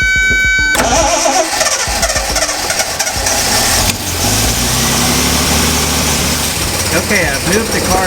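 A Triumph TR6 fitted with newly converted SU carburetors, idle set slightly high, cranks briefly and catches, then settles into a loud, close, uneven running idle with occasional rises in revs, heard inside a garage.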